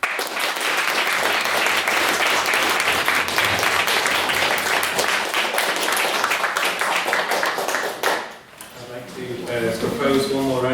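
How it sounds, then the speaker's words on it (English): A debate audience breaks into steady, dense clapping after a speech on Mars exploration, holding for about eight seconds before fading as a speaker begins talking over the tail of it. "Propose one more round of applause for that amazing speech."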